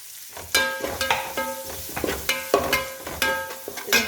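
A metal spoon stirs mutton frying in a pan for a Kerala-style mutton fry. Rhythmic scraping strokes ring with a bright metallic tone, repeating about every half second, up close and without speech.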